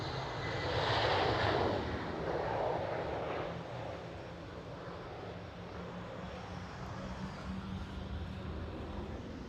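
A KLM Boeing 737 airliner takes off at Schiphol, a loud broadband engine roar that swells early and then holds as a steady, slightly fading rumble.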